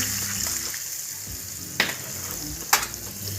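Hot oil tempering (phodni) with asafoetida for a curd-cucumber dish, giving a steady close sizzle with a low hum underneath and two sharp clinks of a spoon or pan, with no voices.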